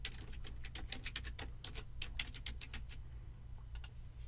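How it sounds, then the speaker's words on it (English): A computer keyboard is tapped out while a password is entered for a SQL Server login, quick close keystrokes in uneven bursts over a constant low hum, with a brief pause before a final few taps. "now I'm going to type in something"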